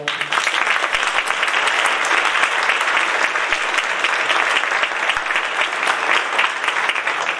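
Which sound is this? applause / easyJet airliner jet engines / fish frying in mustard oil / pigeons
applause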